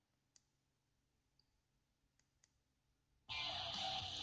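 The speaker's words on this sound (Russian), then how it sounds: "Третья кнопка, я нажимаю." Button presses on an ESP8266 audio player board give a few faint, sparse clicks in a quiet room, then a loud burst of sound from the player cuts in near the end.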